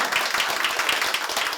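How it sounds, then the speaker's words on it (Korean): An audience at a public broadcast recording claps in a dense, steady patter of many hands, fairly close and even in loudness throughout. "이상 박수로서 마치도록"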